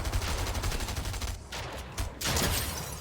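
Dense rapid gunfire in a Fortnite duo cash cup match, loud and continuous bursts with a brief pause before the shooting resumes.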